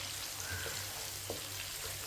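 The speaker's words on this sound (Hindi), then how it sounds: "हल्का सा ब्राउन करना है पहले।" Finely chopped onion sizzles with cumin seeds in half a cup of oil, lightly browning for sarson ka saag, a constant soft frying hiss with small pops and faint stirring.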